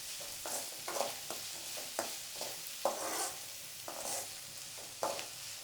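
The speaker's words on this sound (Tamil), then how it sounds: "கொஞ்சம் வதங்கட்டும்" Onions and green chillies sauté in a pan for a goat blood fry, giving a soft, steady sizzle. A spatula stirs and scrapes repeatedly at an uneven rhythm, close by and quiet, with no talking.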